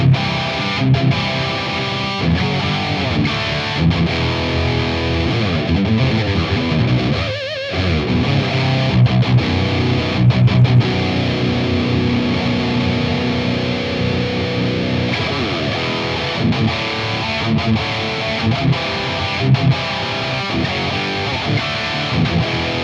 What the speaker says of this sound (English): let's switch over to the red channel with and without the overdrive pedal